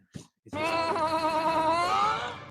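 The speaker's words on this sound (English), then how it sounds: "And now I'm hearing sheep." A sheep gives one long, loud, wavering bleat close by. It follows a short faint sound and has no talk over it.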